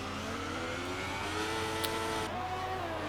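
Race car engine in a PS4 racing game, Chinese Grand Prix round, holding a steady mid-pitched drone with slight rev rises, continuous and fairly close with no talk over it.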